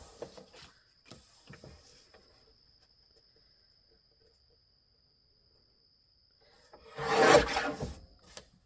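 A guillotine cutter slices heavy cardstock in one brief, rasping stroke near the end, after a few light taps and handling sounds and a long quiet stretch.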